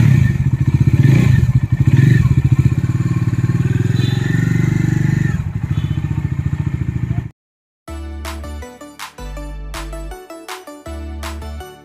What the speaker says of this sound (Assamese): এইফালে আমাৰ ছাৰে একেবাৰে বাইকৰ ষ্টাৰ্ট দিলেই যাবলৈ